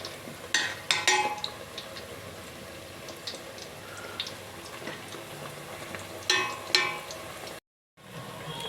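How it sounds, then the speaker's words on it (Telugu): Pieces of food fry in hot oil, three or four at a time, with a soft steady sizzle punctuated by sharp bursts of crackling and utensil clinks, then a short moment of silence near the end. "ఇలాగా గోల్డెన్ బ్రౌన్ కలర్ వచ్చేంత వరకు ఫ్రై చేసుకోవాలి"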